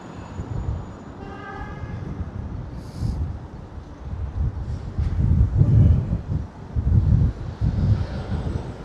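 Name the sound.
wind blowing, heard as wind noise on the microphone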